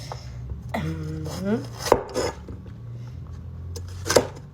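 Knife chopping onions thickly on a cutting board during crab curry prep, a handful of sharp, distinct chops spaced irregularly, close and fairly quiet, with some soft clatter of utensils between cuts.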